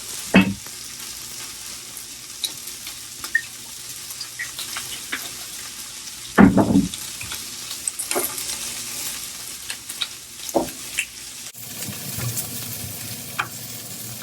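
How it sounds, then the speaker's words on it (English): Halved baby bok choy, brushed with oil, sizzles on a hot grill with a steady hiss. Sharp clatters and scrapes break in now and then, and no one speaks. "The baby bok choy, we're going to get those on the grill as well."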